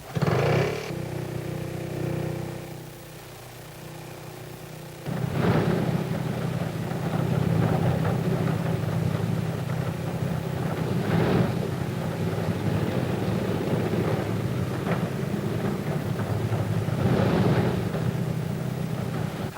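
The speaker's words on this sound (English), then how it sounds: "Tiny auxiliary motor starts each main engine in turn." Engines of a Handley Page airliner being started one after another by a tiny auxiliary motor: a steady loud droning rumble with several surges as each engine catches and runs up.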